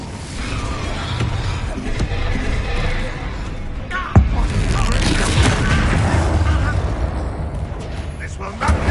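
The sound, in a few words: Incendio spell effect in Hogwarts Legacy video game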